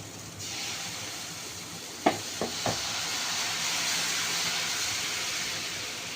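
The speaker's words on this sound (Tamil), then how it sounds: "இப்போ ஓகே தோசை ஊற்றுவோம்." Kavuni rice dosa batter poured onto a hot pan sizzles with a steady hiss, a few sharp crackles breaking in near the middle before the frying settles into an even, close sizzle.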